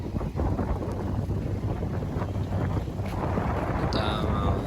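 Strong gusty wind at Danau Biru lake in Indralaya buffets the microphone with a constant loud low roar throughout, with no pauses.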